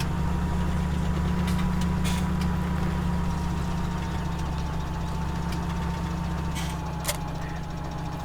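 A tractor engine idles in Farming Simulator 17 with a loud, steady low rumble and a slight knock, broken by a few faint clicks.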